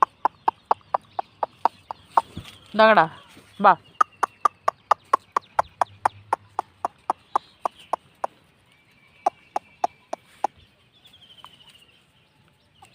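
Chickens being fed cluck in a steady run of short, sharp calls close by, with a brief louder squawk early on and a person's voice speaking briefly.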